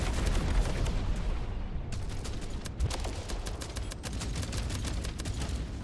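Ship turrets in the space video game Jump Space fire in a sustained, dense barrage of rapid, crackling shots that runs continuously at moderate loudness with no gaps.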